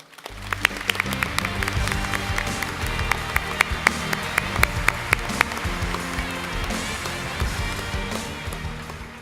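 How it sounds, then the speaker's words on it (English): An audience at a YMCA Hall of Fame induction ceremony applauds, with scattered sharp claps over a low, tonal background of music or hall noise, fairly loud and sustained. "Please give a warm round of applause for the induction of Harry Crowbuck."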